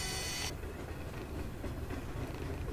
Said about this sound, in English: You hear a train in the background, too.